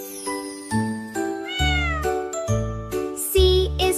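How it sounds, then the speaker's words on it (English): A cat meowing in a sequence of clear, close, drawn-out meows with rising and falling pitch, over light chime-like tones. "C is for cat."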